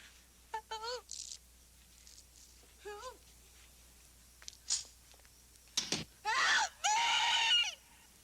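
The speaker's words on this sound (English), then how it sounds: "when Curtis is trying to yell for help, she doesn't quite get the scream out until it's too late" A woman in a 1981 horror film scene tries to scream for help, giving several short strained cries and gasps before breaking into two long, loud screams near the end, with quiet pauses between.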